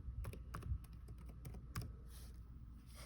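Typing on a computer keyboard, close and fairly quiet, with irregular key clicks in quick bursts and short pauses over a low background hum.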